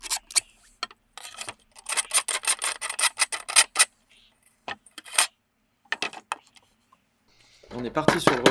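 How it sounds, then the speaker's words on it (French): Steel of a bushcraft bow saw being hand-filed: bursts of rapid rasping strokes, close and fairly loud, broken by short pauses, with a denser scraping run at the end. "Un petit coup de lime, ça peut pas faire de mal."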